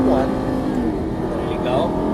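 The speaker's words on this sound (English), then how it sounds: "Now accelerate as fast as you want to the orange cones on the left" Lamborghini Gallardo LP550 accelerating hard, the engine note climbing and surging in the cabin amid road and wind noise while someone speaks over it.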